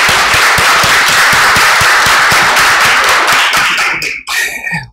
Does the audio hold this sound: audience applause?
yes